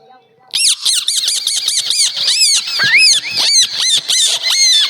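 A man on stage imitates parrots calling at dawn, a rapid series of loud, shrill, chirping squawks repeated in quick bursts for several seconds.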